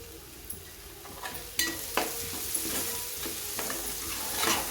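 Cauliflower sizzles steadily in hot oil in a pan for a curry, with occasional stirring scrapes and clicks cutting through the constant close frying hiss.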